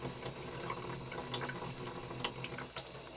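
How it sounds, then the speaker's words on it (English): A laser-engraved stainless steel plate, marked with a CO2 laser, is scrubbed hard under a running tap; steady close hiss of flowing water with scattered brushy scrubbing bursts throughout. "I'm scrubbing hard on purpose just to show you how permanent it is"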